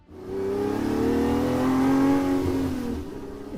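A Ferrari 250 Testarossa, a lightweight 1950s racing sports car with a 400-horsepower engine, revs up to a loud, sustained, rising roar close by, with no voices over it.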